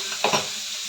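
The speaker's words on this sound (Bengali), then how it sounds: "পেঁয়াজটা ভাজা ভাজা হচ্ছে" Chopped onions fry in a kadai for prawn pulao, giving a steady close sizzle broken by two quick scraping stirs near the start.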